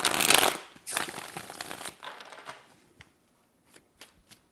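Tarot cards are shuffled close up: a loud riffling flutter at first, then softer slides and scattered taps that thin out into sparse clicks.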